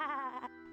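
A single short sheep bleat from the video game Discworld II: Mortality Bytes, wavering and nasal, heard alone and fairly quiet.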